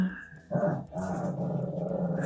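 A puppy growls nearby, a low sustained rumbling growl that breaks briefly and then continues, fairly loud with no talk over it.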